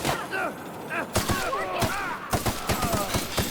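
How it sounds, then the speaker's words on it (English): Assault rifle shots in The Outer Worlds Spacer's Choice Edition, a few close, sharp bursts and single cracks over ringing, tonal game sounds, with a voice talking in between. "That's my assault rifle."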